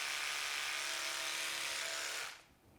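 An electric toothbrush brushing teeth gives a steady, close high-pitched buzz for over two seconds, then cuts off abruptly into quiet.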